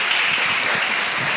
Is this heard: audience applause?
yes